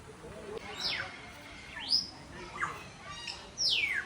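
Several short, high bird chirps ring out at intervals, fairly close, over quiet background noise.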